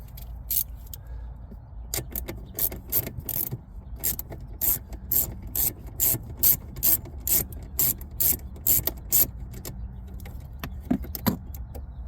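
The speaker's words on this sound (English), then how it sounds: "we're gonna take these 2 bolts off that holds this in place" Rapid ratcheting clicks from a wrench loosening two bolts during an install on a 2025 Chevy Equinox EV, coming in quick close bursts with brief pauses between them.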